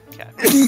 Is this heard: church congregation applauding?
no